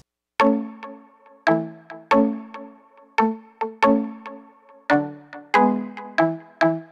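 Bright, bell-like synth plucks from a software instrument layered on a guitar part ring out in a syncopated rhythm, each note striking sharply then decaying, with short rests between phrases and no voice.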